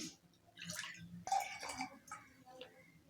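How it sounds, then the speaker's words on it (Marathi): Water poured into a pot of dal for cooking in a Maharashtrian kitchen, heard as a faint, uneven splashing trickle in short bursts with small knocks. "इथे मी एक ते द दीड वाटी पाणी ॲड करणार आहे"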